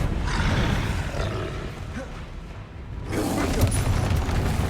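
A Bombarda spell explosion in Hogwarts Legacy, a loud roaring boom that rumbles and fades, then a second heavy blast rises around the three-second mark, with no speech over it.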